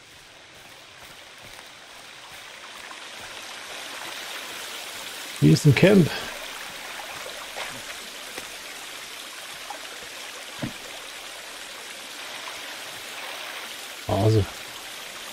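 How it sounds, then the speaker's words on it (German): A waterfall in the video game Sons of the Forest gives a continuous soft rushing hiss, with someone speaking briefly over it. "Schön Wasserfall."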